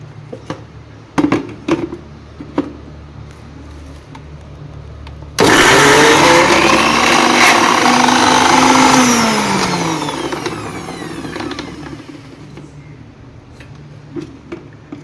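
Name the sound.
mixer grinder blending spice paste with ginger and garlic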